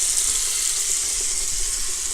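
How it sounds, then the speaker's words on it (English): Tap water runs steadily from a bathroom sink for wetting a beard, a continuous broad hiss and splash that stays close and even throughout with no talking. "Now I'm just going to use just normal water from the sink."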